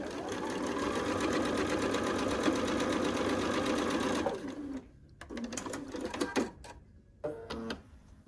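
A sewing machine stitches quilt block pieces together in a fast, steady, close chatter for about four seconds, then stops and restarts in a few short bursts.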